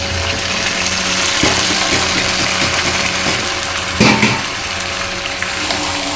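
Yogurt-marinated meat frying with browned onions in a pot for biryani gives a steady, close sizzle with scraping stirs and a louder clatter near the middle, under a faint hum and no talk.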